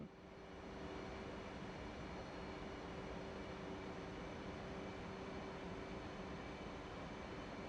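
Steady, loud roar of an F/A-18 jet engine in the DCS World flight simulator, a constant broadband drone with a faint whine, holding level throughout without voices.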